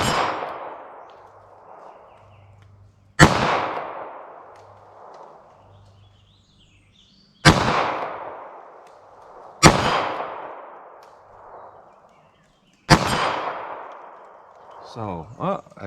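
Four sharp .22 Magnum gunshots from CCI Maxi-Mag TNT rounds, widely spaced and loud, each with a long ringing decay outdoors; faint low hum between shots and a short clatter at the end.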